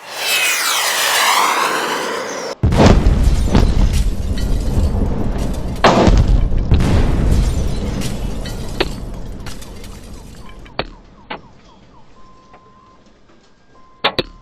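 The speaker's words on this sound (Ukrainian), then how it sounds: "кілька секунд лунають вибухи: один, другий, третій" Several heavy booming blasts in a row from a missile strike on Vinnytsia, Ukraine, loud and rumbling, each followed by a long echoing roar, with a sharp crack or two near the end.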